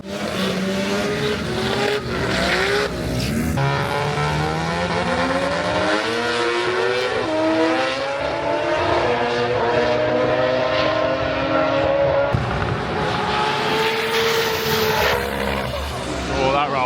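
Race cars blast down the drag strip at the Sydney Jamboree, engines roaring and revving through rising and falling gear changes, loud and close, with a commentator's voice talking over the noise.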